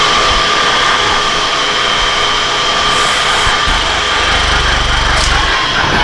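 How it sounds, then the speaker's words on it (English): A 260 reamer cuts through a metal tap handle socket, giving a steady, loud, continuous machining whir with a constant high whine and a deeper rumble that swells near the end. "So we're going to ream this a little bit, about 260, to give me a little bit more give through this."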